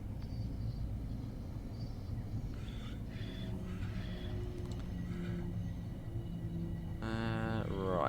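A Long Island Rail Road M7 electric commuter train in Train Sim World 4 rolls along picking up speed, a steady low rumble and hum throughout with faint higher whines and a brief rising tone near the end.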